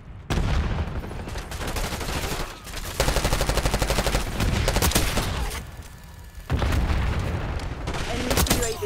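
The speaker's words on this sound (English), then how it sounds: "Impact grenade!" Gunfire and explosions erupt during a hardcore match on Nuketown in Call of Duty: Black Ops 6, including an impact grenade blast. Loud bursts of rapid shots are broken by heavy booms, with brief lulls between volleys.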